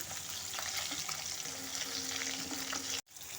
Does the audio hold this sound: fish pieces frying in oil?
yes